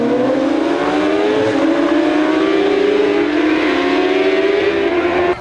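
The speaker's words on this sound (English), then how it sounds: "So Ryan Farquhar is starting to challenge Martin Finnegan at the hairpin." Racing motorcycles at the Skerries road race scream past, a loud continuous high-revving engine whine with rising and falling pitch sweeps, steady and close throughout.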